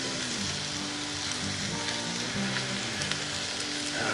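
Onions and ham frying in a Dutch oven for a mountain man breakfast, giving a steady close sizzle and crackle with faint stirring scrapes, no voices.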